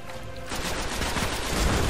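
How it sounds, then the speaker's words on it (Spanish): Rapid automatic gunfire from the video game Destiny on Xbox 360 rattles steadily at moderate volume, a dense burst of shots filling the moment without speech. "me encantan sus sonidos de disparo y todo eso"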